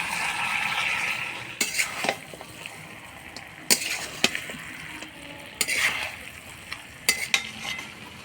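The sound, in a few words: stirring muri ghonto with ghee in pan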